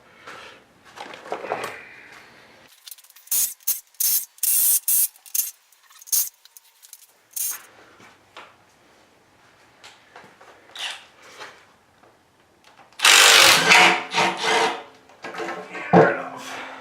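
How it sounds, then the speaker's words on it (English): Tools work the oil pan bolts off from underneath a Foxbody with an LS swap, giving ratcheting bursts, scrapes and clinks in irregular clusters with quiet gaps and a louder flurry near the end. "I'm going to go ahead and take the bolts off from the bottom."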